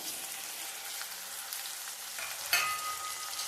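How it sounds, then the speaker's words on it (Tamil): Tomatoes stirred into a pan of sautéing shallots and drumstick pieces, a steady soft sizzle with faint scraping and one sharper clink partway through, no voices. "தக்காளியும் சேர்த்து வதக்கி விட்டுடலாம்."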